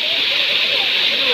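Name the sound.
waterfall, Vaghdevi Waterfall at Ketki Pada, Dahisar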